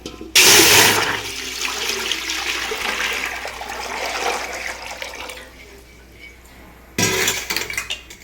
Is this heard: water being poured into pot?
yes